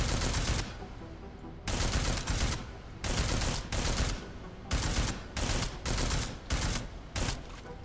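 Combat rifle gunfire in Deus Ex: Mankind Divided, fired against an armored target: loud, close bursts of automatic fire in repeated volleys separated by short pauses, with no talking.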